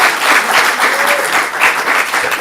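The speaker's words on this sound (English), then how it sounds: "Give him a round of applause." A comedy club audience at a stand-up show claps loudly and steadily, dense sustained applause filling the room with no voices over it.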